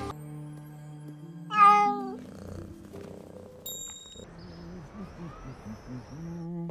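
A cat meows a few times, close and fairly loud, with soft purring and other quiet animal-like sounds in between.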